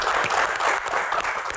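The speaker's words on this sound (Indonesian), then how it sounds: "kita berikan tepuk tangan yang paling meriah untuk rekan-rekan mahasiswa yang ada di studio Q&A" A studio audience of university students on a television quiz show gives loud, dense applause, a full, unbroken wash of clapping throughout the short moment.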